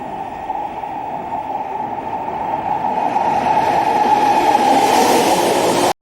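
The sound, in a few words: AI-generated sound of train passing on tracks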